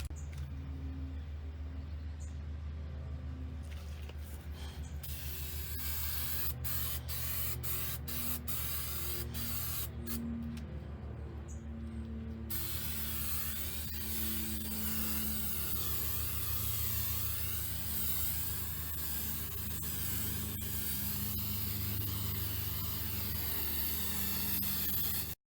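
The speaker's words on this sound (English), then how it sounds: "So let's spray it on." Aircraft paint remover sprayed from an aerosol can onto custom billet running boards for a VW Super Beetle: a long, steady hissing spray that runs almost unbroken, with faint clicks and background hum.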